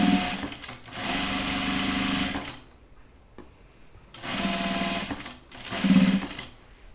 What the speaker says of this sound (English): I just sewed that thread in there.